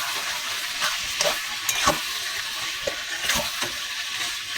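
Masala and tomato frying in oil, a steady close sizzle with soft scraping stir strokes and a few brief spoon knocks throughout, no talking.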